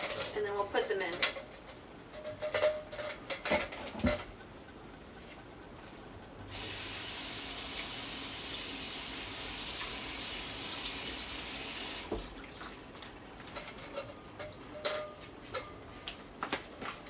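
Potatoes being rinsed in a kitchen sink: running tap water and a steady spray in the middle, flanked by clattering dishes and utensil knocks, moderately loud and close.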